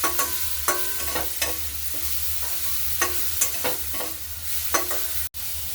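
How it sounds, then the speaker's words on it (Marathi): Masala paste with curry leaves sautéing in oil for Mumbai vada pav chutney, a steady close sizzle broken by regular spoon scrapes and stirring strokes against the pan about every half second. "वाटण छान तेलामध्ये परतून घेऊ"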